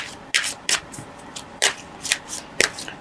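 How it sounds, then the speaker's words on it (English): Tarot cards are shuffled and drawn by hand, with several quick, crisp riffling bursts and soft slaps spaced across a quiet room, close and without speech. "Now I'd like to draw some clarification cards"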